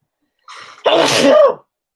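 A short breathy inhale leads straight into one loud, forceful sneeze, very near and drawn out for about a second.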